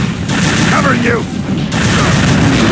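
Continuous heavy gunfire and explosions from an Unreal Tournament III team deathmatch, a loud dense roar of weapon blasts with game voices calling out over the barrage.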